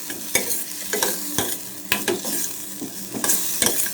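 Chili powder and ground spice powder sizzle in hot oil for a chicken soup, with a steady fry under regular scraping stirs about every half second, close and alone.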